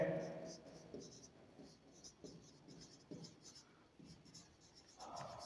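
Chalk or a marker writes on a board during a maths lesson on Euclid's division algorithm, making soft, rhythmic scratching strokes in short runs, faint and close, with a teacher talking intermittently.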